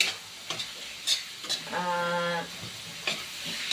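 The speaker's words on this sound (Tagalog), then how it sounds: "ang ihahalo ko dito sa sayuti na may corned beef" A spoon stirs and scrapes through a sizzling sauté of corned beef in a pan, with intermittent clinks against the cookware over a steady frying hiss and a brief whistling tone in the middle.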